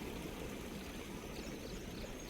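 A stream flows among hills near a farm well, a steady, faint rushing of water with no break, heard alone without voices.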